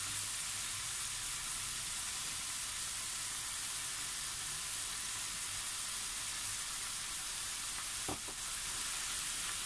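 Tomato sauce and dry basil cooking in a pan for spaghetti: a steady, loud sizzle runs throughout, with one brief utensil clink near the end.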